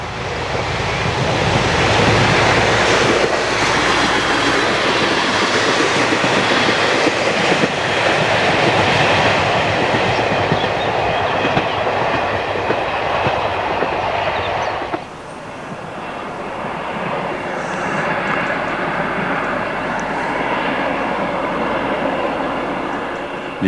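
An X2700 diesel railcar running on rails on the descent from La Freyssinouse toward Gap, a steady loud rolling rumble and rattling wheel noise with wind, continuous throughout.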